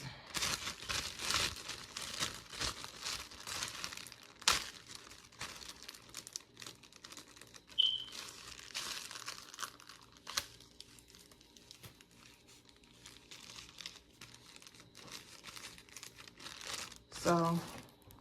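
A plastic bag crinkles and tears close by in a long stretch of busy rustling and crackling with sharp ripping bursts, interspersed with a person talking.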